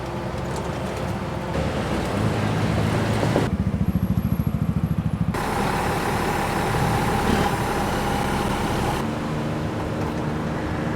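Tuk-tuk engine on a ride through Bangkok backstreets, a steady puttering drone heard from on board that shifts in pitch and roughness as the vehicle slows and picks up speed, with a rapid chugging stretch partway through.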